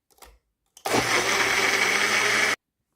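A blender grinds milkshake ingredients with honey in a loud, steady whirring roar that starts abruptly after a couple of faint taps, runs for under two seconds, and cuts off sharply.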